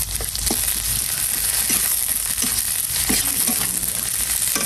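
Mashed boiled potato lightly frying in a pan, giving a steady close sizzle with occasional soft stirring scrapes and clicks throughout, no talk.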